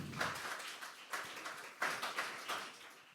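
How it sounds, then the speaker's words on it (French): Scattered applause from a conference audience at a deep tech event in Paris, a few sparse claps swelling in short bursts, fairly faint and distant in a large room. "On peut les applaudir, s'il vous plaît"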